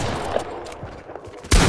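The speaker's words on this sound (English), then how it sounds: "Sorry, I accidentally shot." Dense rattle of gunfire from a free-for-all shooter video game, with a sudden loud shot bursting in at the end, close and prominent.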